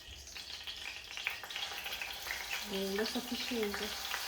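Garlic, coconut and ginger paste dropped into a hot pan, frying with a steady soft sizzle and faint stirring sounds, while someone talks quietly over it near the end.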